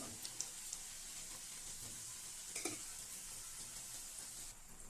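Kajjikayalu, sweet Andhra dumplings, frying in hot oil, giving a steady, moderately quiet crackle and hiss throughout with a few small pops and no voices.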